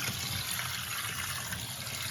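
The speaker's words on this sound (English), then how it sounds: "And you just continue to rinse." Hot water runs steadily while rinsing a 4L60E transmission valve body, a constant close splashing and trickling with no pauses.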